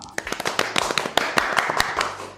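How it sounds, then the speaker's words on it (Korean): Audience applause greets a speaker introduced at a live SAP hybrid cloud ERP webinar, a dense patter of many hands clapping steadily for a couple of seconds, fairly close and even in loudness. "박수 부탁드립니다"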